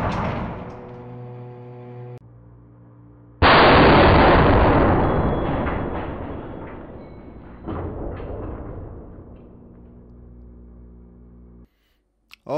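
A pressure bearing bursting under a hydraulic press at around 70 tons: one sudden, very loud close blast that rings out and slowly decays, with another sharp burst partway through, following a steady machine hum.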